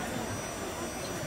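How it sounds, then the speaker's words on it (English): Steady loud broadband whoosh of a heat gun blowing air, used like a blow dryer for cake decorating at a live cake show, constant and continuous throughout. "It's a heat gun."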